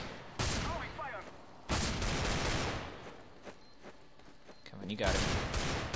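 CS:GO gunfire: several loud close bursts of automatic shots separated by quieter gaps, with a player's voice speaking over the action.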